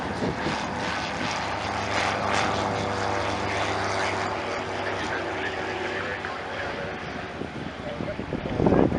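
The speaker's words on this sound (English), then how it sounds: "There's a plane off in the distance," A Goodyear blimp's engines drone during a low flyby over Santa Monica Airport, a steady broadband propeller hum that stays fairly constant, with faint voices of onlookers talking underneath.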